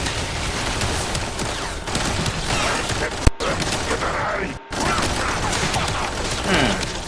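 Dense, rapid gunfire bursts from a weapon firing at random in the video game Warframe, steady and loud throughout with two brief dropouts, and no speech over it.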